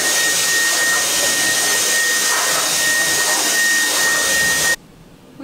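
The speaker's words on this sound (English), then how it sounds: "Let's vacuum this place up." A vacuum cleaner runs loud and close inside an RV with a steady whining roar and high tone, then cuts off abruptly near the end.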